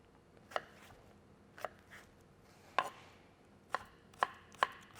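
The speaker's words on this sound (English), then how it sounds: "Chopping that up into a small dice." A knife chops cucumber into small dice on a board, sharp isolated thuds arriving irregularly, sparse at first and then quicker, close and fairly quiet with no talking.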